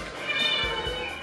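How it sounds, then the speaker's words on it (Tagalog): Several rescued cats meow at close range, a couple of drawn-out, tonal cries rising over a low background hum. "Rescued cats ang mga ito."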